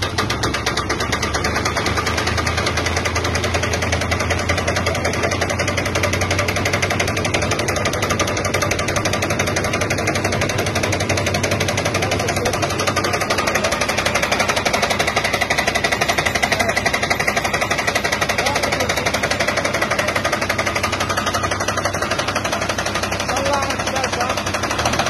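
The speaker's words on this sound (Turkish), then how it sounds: "Bak şimdi pistonlu, bu süper bir makine." A Sarsmatik Doğanşahin piston-type walnut tree shaking machine runs nonstop, a loud engine with a fast, hammering knock that holds steady throughout, while voices speak over it.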